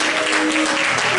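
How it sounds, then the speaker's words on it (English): A church audience claps in a dense, loud burst of applause, brief and filling the room. "Would you put your hands together and give Pastor Rodgers a round of applause?"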